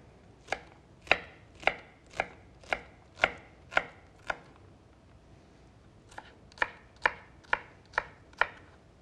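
Knife chopping food into small pieces on a board, crisp close strokes in two rhythmic runs of about eight cuts each with a short pause between.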